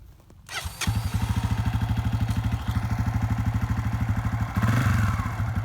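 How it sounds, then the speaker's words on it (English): A Honda CRF250f dirt bike engine runs steadily with a rapid, even thumping pulse, close and loud, holding a constant beat and then rising slightly in pitch and strength near the end as it moves through a gear change, with no voices. "you will feel that you are going a little bit faster and the bike will sound a little bit different"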